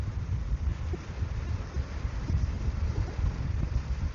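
Wind at a harbor beach, a constant low roar of gusts buffeting the microphone, steady and close with no other distinct sounds.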